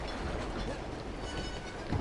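Train in Uncharted 2: Among Thieves, heard as a steady, loud rolling rumble of wheels and carriage noise for a couple of seconds, with a slight low thump near the end.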